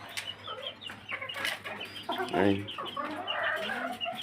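Chickens cluck repeatedly on a small home farm, close and fairly loud, with someone speaking briefly over the birds.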